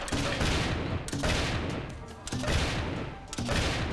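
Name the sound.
gunfire during a boss fight in the video game Turnip Boy Robs a Bank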